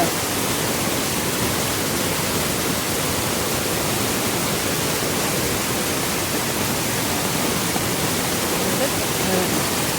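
A dense, unbroken roar of a flooded river in Konkan fills the whole clip, loud and steady with no pauses.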